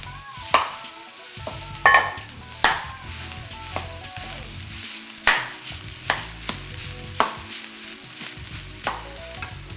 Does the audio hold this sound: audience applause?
no